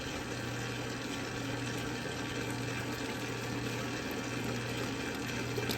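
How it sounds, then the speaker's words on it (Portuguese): A dough mixer churns steadily while kneading long-fermentation dough made with biga and organic flour as olive oil goes in, a continuous motor hum with a faint whir, even and unbroken. "aqui com a maceira em movimento mesmo, ó, não há necessidade de parar ela"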